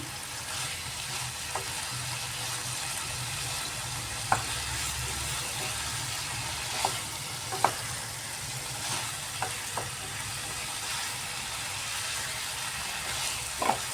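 Cauliflower and potato frying in a pan for a winter rohu fish curry, a steady close sizzle with occasional clicks and scrapes of a spatula stirring, no voices.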